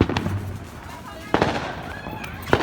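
Fourth of July fireworks going wrong near a palm tree: sharp crackling pops and a few bursts over a steady rushing background, while people talk and react nearby.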